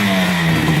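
A two-stroke Yamaha RD 350 motorcycle engine revs close by, a buzzy, steady drone with a slight rise in pitch, loud and continuous.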